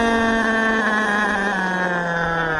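Close, loud RC helicopter engine with a loosened exhaust pipe, making a steady buzzing whine that sags slightly in pitch over a few seconds.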